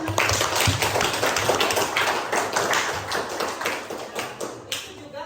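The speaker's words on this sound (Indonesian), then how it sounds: "Kasih tepuk tangan dulu" A group of children claps their hands together in a classroom, with uneven, scattered claps that carry on for several seconds and fade toward the end.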